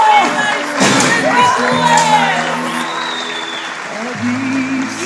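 Audience applause and cheering at the Luleborë song festival in Shkodër, a burst of clapping with scattered whoops under a nearby voice speaking over the crowd.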